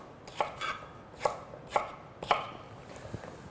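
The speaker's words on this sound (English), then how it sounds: "we're just going to cut it at an angle" A knife chops rhubarb into big chunky pieces on a cutting board, cutting at an angle, with four or five sharp, close thuds spaced about half a second apart and no talking.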